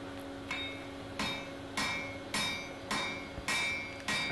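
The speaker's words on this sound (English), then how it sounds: "Did most of the weld with the big hammer, then moved on to my smaller ball peen to blend in the edges." Forge welding a chunky piece of steel for an Anglo-Saxon adze, struck first with a big hammer and then a smaller ball peen: seven sharp, ringing blows at a steady pace, each trailing a bright metallic ring over a low steady hum.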